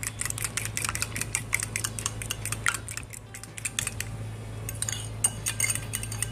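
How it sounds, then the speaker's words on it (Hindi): Eggs mixed with turmeric, coriander powder, garam masala and chaat masala get whisked in a bowl for a spinach omelette, a steady close-up run of fast metallic clinks and taps against the bowl. "अब इनको मसालों को डालने के बाद एक दफ़ा फिर फेंट लें।"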